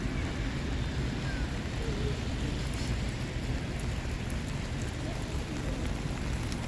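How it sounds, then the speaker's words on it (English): Steady rain falls in Halifax, a soft continuous hiss of drops on the street and surfaces outdoors, fairly quiet and even with no voices. "Wasn't expecting it to rain."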